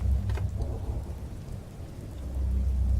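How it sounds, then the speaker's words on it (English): Steady rain pours in the Enderal video game with low thunder rumbling underneath, swelling again toward the end; no talking over it. "It's raining now."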